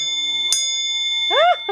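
An old bell, rung by a small homemade driver circuit like a crossing-guard bell, gives a sustained metallic ring with clear steady overtones, with a sharp strike and a brief voice-like sweep near the end.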